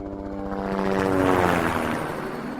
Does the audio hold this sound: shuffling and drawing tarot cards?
no